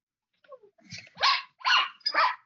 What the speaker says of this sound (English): Got the guard dog.